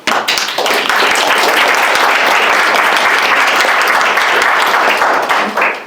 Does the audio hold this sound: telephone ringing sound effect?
no